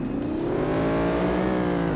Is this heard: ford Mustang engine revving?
yes